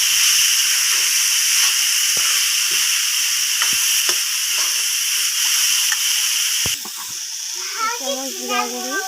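Lentils, potato and banana flower with ginger and garlic fry in a pan with a loud, constant sizzle and scattered scraping strokes of stirring, then the hiss drops as a voice begins speaking.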